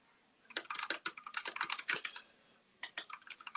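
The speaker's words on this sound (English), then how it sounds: "I'm also typing it." Rapid typing on a computer keyboard, close and fairly quiet, with bursts of quick key clicks broken by a short pause before resuming.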